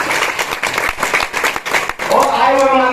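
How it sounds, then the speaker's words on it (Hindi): An audience claps at a Maharana Pratap Jayanti celebration in the village of Tangaur, with brisk, dense applause for about two seconds before a voice speaks loudly over a sound system. "लगा के ताली बजाएं।"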